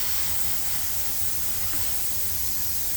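An Iwata Revolution airbrush with a 0.3 needle sprays paint onto a StuG III Ausf G scale model, a steady close airy hiss without a break.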